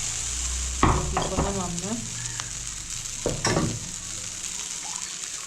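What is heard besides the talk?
stirring moong dal with vegetables in a pan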